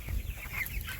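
Cornish Cross chickens in a mobile chicken tractor cluck and murmur close by, a steady low chatter of several birds over soft background noise.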